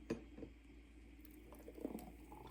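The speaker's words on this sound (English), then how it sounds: "Let me pour it in a cup." A Slim Fast banana smoothie, fairly thick but watery, poured into a cup: a quiet, continuous liquid glug and splash with a couple of soft plops, close and faint.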